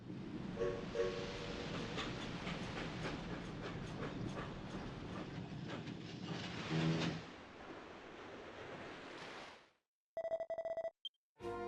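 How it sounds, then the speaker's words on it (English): A train in the Dragon Quest X video game rolls along with a steady rumble and rhythmic clickety-clack of wagon wheels for several seconds. It fades out, and a short electronic ringing chime follows. "Choo-choo."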